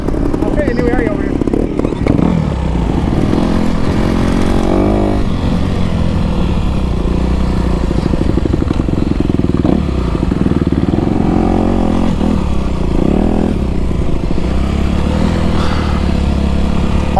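A trials motorcycle runs continuously up close, its engine droning and rising in revs during a rider's first outing, with voices talking over the steady motor noise.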